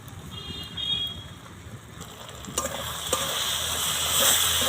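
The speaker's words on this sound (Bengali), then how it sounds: "এবার নাড়াচাড়া করে নেব।" Ground spices (turmeric, Kashmiri chili powder, cumin and coriander) stirred as they fry in oil for a jackfruit curry: a steady sizzle with scraping stirs that grows louder and brighter toward the end, with no talking.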